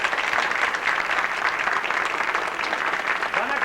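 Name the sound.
applause for the mayors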